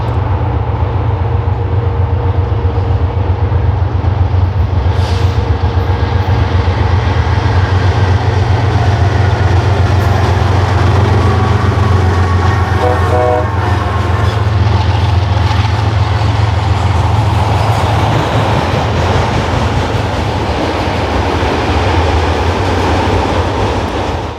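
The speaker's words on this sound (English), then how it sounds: "we have to wait for this BNSF southbound to pass" BNSF southbound freight train rolling past close by, a loud continuous rumble and rattle of wagons on the rails with a steady low drone throughout, no voices.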